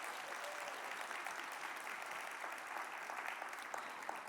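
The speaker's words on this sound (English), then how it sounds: "Could we have a round of applause for those awards?" A faculty meeting audience claps steadily for awards, a soft, even wash of many hands heard from a distance throughout.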